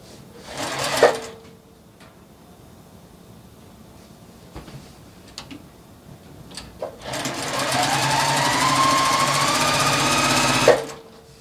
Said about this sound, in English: I'm going to line it up and then sew it together with a 1/4 inch seam